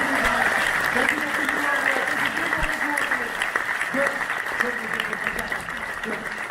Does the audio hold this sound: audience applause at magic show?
yes